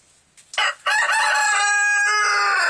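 A rooster crows loudly and close by inside a deep-litter chicken coop in spring: one long, drawn-out crow that follows a few short clucks.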